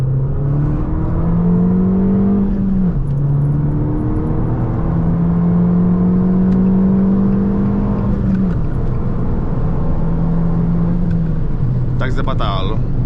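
Abarth 595 Competizione with TCC and a locked differential accelerating hard, its engine note rising through the gears in steady loud pulls with brief dips at shifts, heard from inside the cabin with some talk over it.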